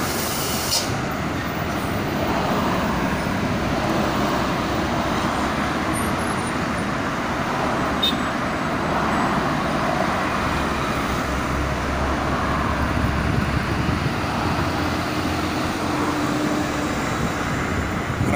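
A steady, continuous rumble of slow-moving traffic fills a long traffic jam on a Jakarta toll road, with engines idling and vehicles creeping, a constant dense roadway drone without talk.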